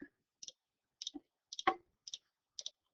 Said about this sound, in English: if I type that into my calculator